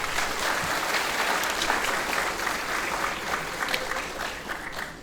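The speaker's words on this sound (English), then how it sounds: "Let's give another round of applause for Ms." An audience at a graduation ceremony applauding, a steady wash of clapping with some crowd noise that tapers slightly toward the end.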